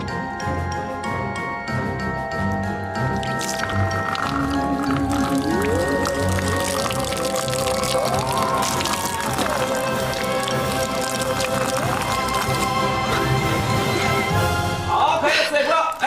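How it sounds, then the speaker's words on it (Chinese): Water poured down from above on a film set splashes steadily like heavy rain for most of the stretch, with voices and tonal sounds running underneath. "他就把水倒下去"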